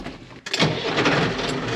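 A farm tractor engine cranks briefly and then catches, settling into a steady running rumble close by, with no voices present.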